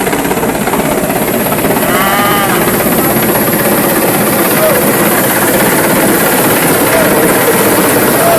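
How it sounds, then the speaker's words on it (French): A descending helicopter roars loudly and steadily nearby, its rotor and engine noise filling the scene, with faint voices underneath. "L'hélicoptère descend à Manfouété."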